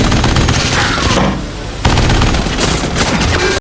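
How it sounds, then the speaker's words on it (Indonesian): Loud, dense bursts of rapid gunfire, a long continuous volley, a brief lull, then another sustained barrage, harsh and close. "memberondongnya dengan puluhan tembakan"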